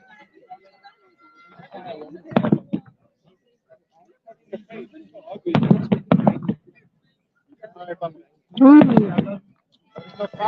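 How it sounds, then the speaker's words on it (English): Scattered bangs and crackling pops of New Year's Eve fireworks at a winter festival in separate bursts, with people exclaiming between and over them. "Fireworks."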